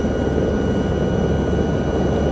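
A helicopter flies in a VR flight game, a continuous steady rotor and engine drone that stays loud and even throughout.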